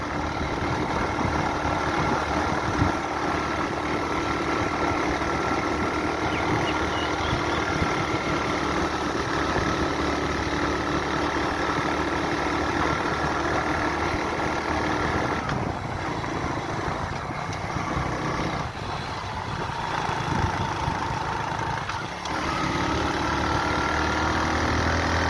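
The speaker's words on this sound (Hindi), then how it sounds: "ये मोटरसाइकिल बाइक चला रहे हैं।" A motorcycle engine runs steadily throughout, a constant close idling drone with a slight knocking texture and no pauses.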